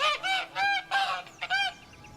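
A goose in The Witcher 3: Blood and Wine honks several times in quick succession, loud and close, with nasal, rising calls.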